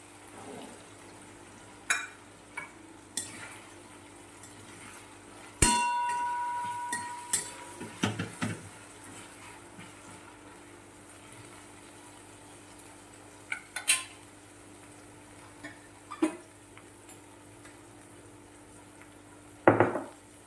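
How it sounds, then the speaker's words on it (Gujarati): Green peas tipped into a pan for a fenugreek, pea and potato curry, then stirred: sharp metallic clatters and scrapes of a spoon against the pan, scattered knocks amid quieter pauses, no talk. "હવે આપણે આમાં વટાણા નાખી દઈશું"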